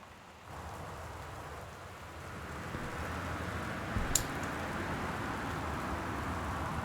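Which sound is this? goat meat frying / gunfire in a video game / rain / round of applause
rain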